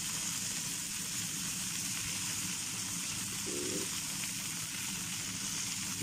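Chicken pieces grilling in a pan give off a steady, soft, continuous sizzle with a crackling hiss, fairly quiet and alone, with no talking.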